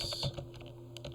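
A few quick keystrokes on a computer keyboard while a file name is entered, soft clicks close by over a faint steady hum.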